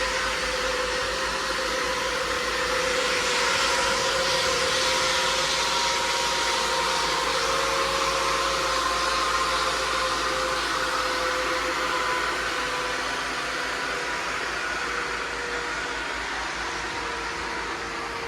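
A 3-coach train stands at Shotton station, its loud, steady engine hum and broadband idling roar holding constant and close for the whole stretch.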